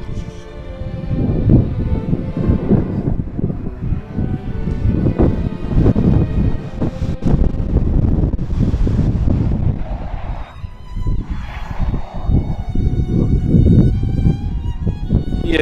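Strong, gusty wind near Lake Vättern at Gränna, Sweden, buffets the microphone in loud, continuous rumbling bursts that rise and fall throughout.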